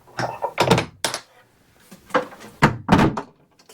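A wooden cabin door aboard a Cabo Rico 38 sailboat is swung shut and latched several times, giving close, solid thunks and knocks in quick pairs.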